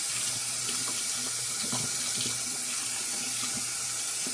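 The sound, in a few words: tap water rinsing soap off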